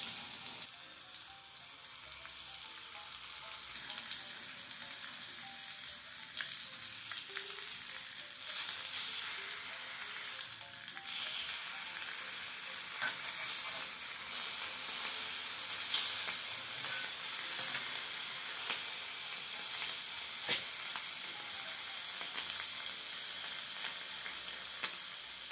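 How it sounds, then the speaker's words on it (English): Bacon sizzles and fries in an oiled pan over open coals, a steady, crackling hiss with occasional pops and stirring sounds, no talk. "I'll put a bit of oil in the pan and then the bacon."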